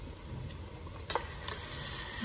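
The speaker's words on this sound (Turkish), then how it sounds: "Yazdan yaptığım domates sostan da üzerine ilave ediyorum." Homemade tomato sauce hits hot tomato paste in a pan for a lamb rib and chickpea stew, a soft steady sizzle with a small splash partway through, close and fairly quiet.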